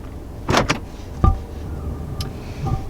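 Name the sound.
electronic parking brake engaging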